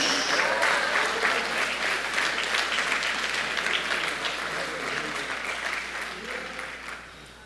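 A church congregation applauding during a service, steady crowd clapping that gradually softens and tapers off at the end.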